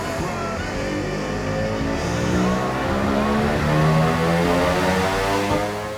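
A Vespa PX 125 scooter fitted with a 177 performance cylinder and SIP Road 3.0 exhaust revs hard on a dyno, its loud two-stroke engine held at high, steady revs for several seconds with no voices.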